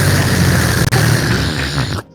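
Video game spaghetti monster pull-in effect, the Minotaur slurping noodles, a loud continuous roaring, rushing noise that holds steady for about two seconds before cutting off abruptly.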